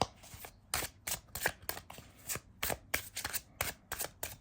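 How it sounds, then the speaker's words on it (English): Repeated crisp riffles and flicks of tarot cards being shuffled, in quick uneven bursts, close and fairly quiet, with no talking. "I usually like to shuffle until I get a flyer."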